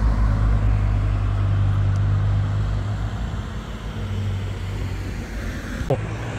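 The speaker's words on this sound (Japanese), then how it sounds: "バリバリのシルビア来たね。" A heavily modified Nissan Silvia passes by at a car meeting at Ecopa Stadium in Shizuoka, its engine a loud, steady low roar that holds close, then eases slightly as it moves on.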